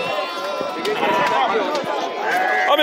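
Goats bleat at a goat and sheep livestock fair in Tabira, Pernambuco, with a few short calls rising over busy crowd chatter and nearby voices talking throughout.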